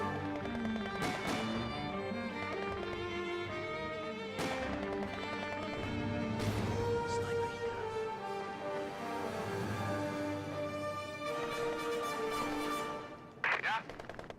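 Gunfire and artillery from Company of Heroes 2 crackle in sharp, repeated bursts over a constant battle din, with heavier impacts scattered through, while people talk over the fighting.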